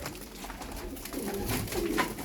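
Soft pigeon coos, low and throaty, repeating over a noisy loft as a male chases a female among a flock, with faint bird activity around.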